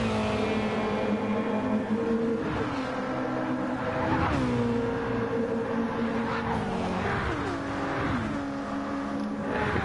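GTE race cars, including a Ford GT, roar past in Gran Turismo 7 at the High Speed Ring, their engines loud and continuous with rising and falling pitch as they shift and pass.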